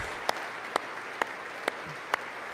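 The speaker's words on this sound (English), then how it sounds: "Why do I hear one solitary clap really well?" A single person claps alone, six sharp, evenly spaced claps about half a second apart, moderately quiet, with no talk.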